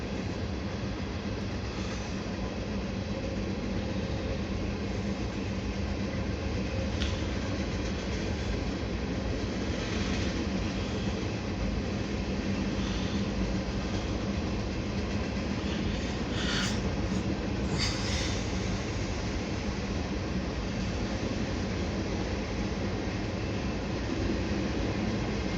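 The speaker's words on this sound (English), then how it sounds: "this is a CSX garbage train mixed in with a manifest" CSX mixed manifest and garbage freight train heading east, a steady continuous rumble and rolling roar of cars passing close by for the whole stretch, with a few faint squeals near the end.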